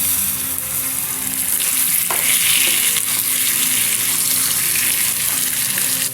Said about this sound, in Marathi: कांदा आणि टमाट्याची पेस्ट मस्त याला फ्राय करून घ्यायचं आहे तेल सुटेपर्यंत